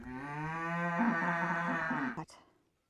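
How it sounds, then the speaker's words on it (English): A cow gives one long, loud, close moo that holds steady for about two seconds before cutting off, heard alone with no talk. "The cows want to know what we're doing."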